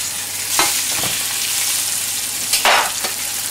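A seabass fillet fries in a pan with a loud, continuous sizzle close up, flaring briefly twice.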